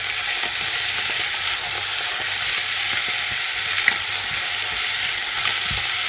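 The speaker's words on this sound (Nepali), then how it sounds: "यो चिकन चाहिँ यो कसौरी टाइपको भाँडामा चाहिँ बनाउँदैछु।" Chicken fries in a deep pot with a steady, dense sizzle, occasionally stirred, close and continuous, with no talking.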